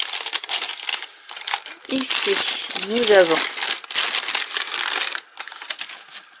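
Tissue paper from a sea-themed craft subscription box is crumpled and handled during unboxing, bursts of close crinkling and rustling with someone speaking French in between.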